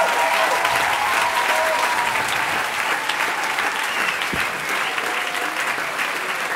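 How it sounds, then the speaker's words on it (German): A theatre audience in Marburg applauds after a comedy performance of Romeo and Juliet in Saxon dialect, a dense, sustained wash of many hands clapping throughout, with faint crowd murmur beneath. "Luca Prosius, noch einen herzlichen Applaus, bravo."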